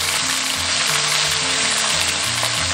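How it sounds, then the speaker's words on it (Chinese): Crab pieces fry in hot oil with scallion and ginger, making a loud, dense, continuous sizzle with low rumbling underneath, up close and without talk. "热锅倒冷油， 下入葱姜炒香，炒香后下入螃蟹，铺开"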